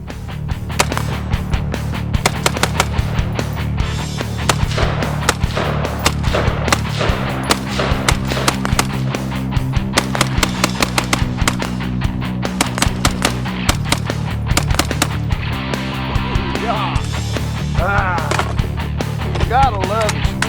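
Semi-automatic fire from a Colt SP1 rifle at an outdoor shooting range, sharp reports in steady repeated strings with short pauses, loud and close, over a constant low background hum.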